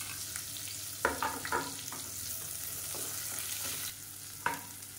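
About fifteen finely chopped shallots sautéing in a pan, a continuous low frying hiss with occasional spoon stirs and scrapes, close and moderately quiet, no voices.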